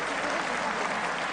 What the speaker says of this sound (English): a good reaction from the crowd